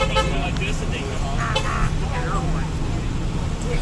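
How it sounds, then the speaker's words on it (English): Car horns toot repeatedly in celebration amid road traffic, short honks scattered over engine noise while a person talks over them. "Honking the horn, not to signal in traffic, but to celebrate or whatever."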